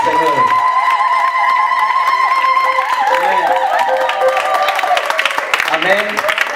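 A church congregation applauds and cheers in praise, with loud sustained clapping and shouting voices, and a strong steady tone running under the crowd.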